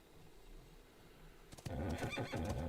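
A horse in a video game whinnies loudly in one drawn-out call, with hoof clip-clops, after a quiet stretch with no talking.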